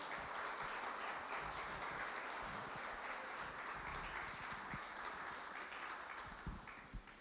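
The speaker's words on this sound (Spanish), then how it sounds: "Dele un fuerte aplauso al Señor." A church congregation applauding, dense sustained clapping filling the space at a steady level, thinning slightly near the end.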